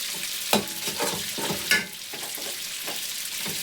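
Biryani masala fries in a pan for quick chicken biryani, a steady close sizzle broken by a few sharp scraping stirs of a spoon.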